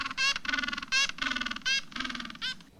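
A penguin gives a loud, close braying call: a rapid series of harsh, honking bursts in a pulsing rhythm, heard alone.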